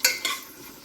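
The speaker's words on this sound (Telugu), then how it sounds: "నేతిలోనే వేసుకొని చక్కగా కొంచెం వేయించుకోవాలి." Whole spices and cumin frying lightly in ghee in a pan while sweet corn pulao is made. A sharp burst of sizzle opens, then a second stir-scrape follows. After that a soft, steady crackle carries on alone, with no voices.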